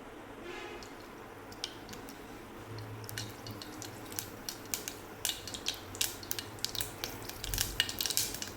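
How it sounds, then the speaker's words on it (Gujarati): Mustard seeds crackling in hot oil in a pan, starting as faint sizzling and building into dense, irregular pops and spits that grow louder and more frequent toward the end. "અને રાઈને તતડવા દઈશું."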